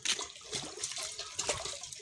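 Faint running water trickles and splashes softly nearby, a light continuous flow with small bursts of spatter.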